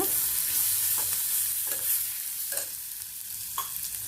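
Sambar powder spices and Ponni rice sautéing in a pan: a continuous close sizzle with spatula stirs scraping about once a second, with no one talking.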